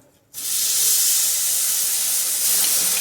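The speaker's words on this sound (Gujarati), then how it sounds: "તો થોડુંક પાણી નાખશું" Water poured from close by onto 200 grams of sugar to make syrup for a coconut sweet, starting abruptly as a loud, steady rushing hiss that runs to the end.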